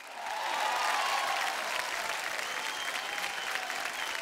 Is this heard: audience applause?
yes